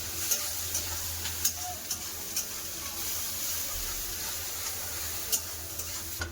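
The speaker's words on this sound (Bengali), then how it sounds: "পেঁয়াজ ভালো করে লাল করে ভেজে নিয়েছি" Onions fry in a pan until browned, a constant dense sizzle close up, punctuated by light, evenly spaced ticks of a spatula touching the pan.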